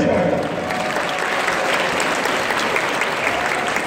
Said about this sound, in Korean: 10라운드까지 훨씬의 힘을 다하여 열심히 싸우는 선수에게 힘찬 박수 보내시기 바랍니다.